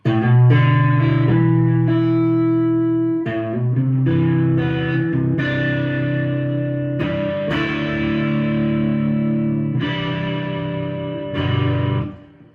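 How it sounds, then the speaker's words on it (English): Electric guitar with Greco humbuckers rings through a Twin Reverb amp with distortion and reverb, heavy low chords and sustained notes played for several seconds, loud and close. "the bottom end will punish you all the way through a twin reverb like this"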